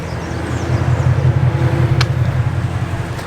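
A car engine runs at a steady idle-to-low rumble, close and continuous, with a deep throbbing drone and no speech over it.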